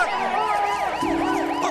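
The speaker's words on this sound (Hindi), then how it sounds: "इनको सुनाई देता है पुलिस का सायरन" A wailing police siren in a movie scene sweeps up and down in rapid, even cycles, loud and close, with a lower steady tone joining partway through.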